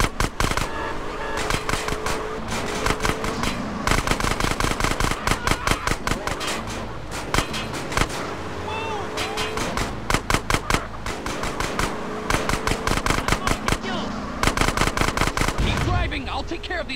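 Gunfire crackles in GTA San Andreas during a vehicle chase, with dense bursts of rapid shots and explosions in repeated volleys throughout. A voice speaks occasionally under the shooting.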